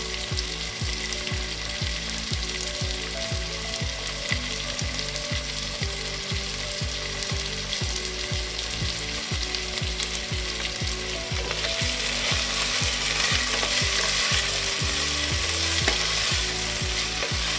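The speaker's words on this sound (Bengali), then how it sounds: "হালকা ভাজা হতে থাকবে, পেঁয়াজ যাতে পুড়ে না যায় সেটা খেয়াল করবেন।" Onions and vegetables frying in a pan for dhaba-style veg pulao, a steady, dense sizzle with a fast, regular mechanical ticking underneath throughout, the hiss brightening in the last few seconds.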